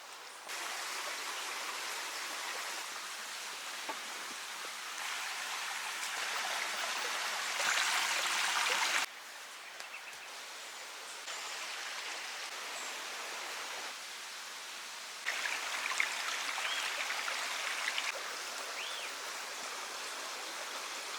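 A forest stream on Chiloé Island, Chile, flows in a steady, close rushing wash that rises and falls slightly in loudness, with no voices present.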